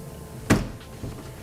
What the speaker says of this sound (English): As I open up these doors